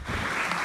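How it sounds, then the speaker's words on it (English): Audience applause at a conference on ecological transition, a brief, steady wash of clapping at moderate volume with no voices over it. "There is an applause."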